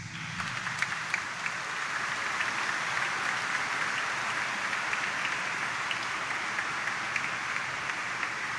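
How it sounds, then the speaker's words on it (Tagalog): A congregation at a late-night Catholic Mass for the Solemnity of the Black Nazarene claps, a broad, even roar of applause heard from some distance that continues steadily throughout. "Kaya maaari pang pumalakpak ng mas malakas."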